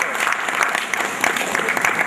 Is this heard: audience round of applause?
yes